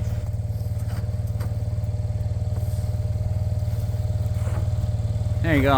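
A four-wheeler ATV engine drones steadily up close while clearing deep snow in the Alaska bush, then rumbles a little louder at the end. A voice speaks briefly over it.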